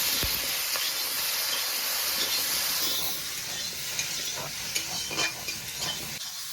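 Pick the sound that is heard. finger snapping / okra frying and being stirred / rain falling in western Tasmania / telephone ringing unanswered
okra frying and being stirred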